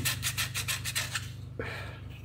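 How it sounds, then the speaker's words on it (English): Rhythmic rasping strokes of sanding wood, about eight quick back-and-forth rubs close by, then a pause with a low steady hum underneath. "We have a little bit of sanding, a little bit of cleaning up to do."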